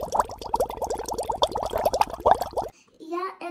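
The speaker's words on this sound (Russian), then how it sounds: "ну и теперь нам надо вот это вот, всех этих кругов наполнить с водой" Water runs into a set of round plastic molds for making ice balls, a dense bubbling, gurgling fill that stops abruptly, followed by a brief voice.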